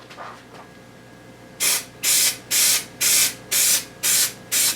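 Seven short bursts of aerosol spray adhesive hiss in a steady rhythm after a quiet start, each puff loud and close with brief gaps between.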